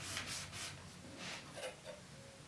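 A taper reamer being sharpened to remove a small burr, quiet rhythmic rubbing strokes of metal on an abrasive, about six soft passes heard up close.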